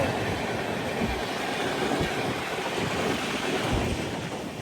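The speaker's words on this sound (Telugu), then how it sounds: "రాజధాని ఎక్స్ప్రెస్ ఇప్పుడు వెళ్ళింది." A Rajdhani Express rushes past a moving train in India, a broad, steady roar of wheels and air with low rhythmic thumps, close and continuous throughout.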